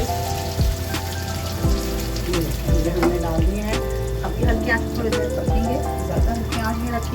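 French fries going back into hot oil for a second crisping fry give a steady, bubbling sizzle with repeated sharp clicks and taps of stirring, close and fairly loud, with no talking.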